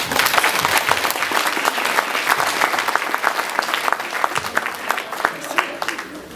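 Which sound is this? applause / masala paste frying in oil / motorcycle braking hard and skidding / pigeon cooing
applause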